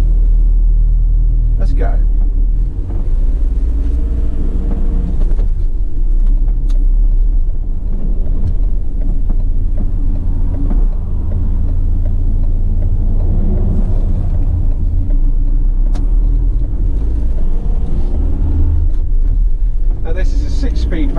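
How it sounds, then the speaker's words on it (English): A 2017 Ford Transit 350 six-speed van starts and pulls away, its engine rumbling steadily and loudly close by throughout, with a person speaking briefly over it. "I'm going to take it for a quick test drive, so let's start her up."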